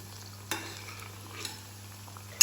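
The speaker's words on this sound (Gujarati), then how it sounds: "અને ધીમા તાપે તળાવવા દઈશું." Wheat flour karela biscuit puri frying slowly in oil over low heat, a quiet steady sizzle with a few sharp clinks from a utensil against the pan, close by.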